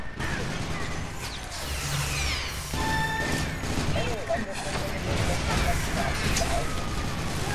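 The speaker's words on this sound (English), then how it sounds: "I'm just firing in with my grenade launcher" A grenade launcher firing in the video game Loadout brings dense bursts of blasts, pops and mechanical clatter, continuous and loud through the whole stretch, with a voice talking over the game sounds.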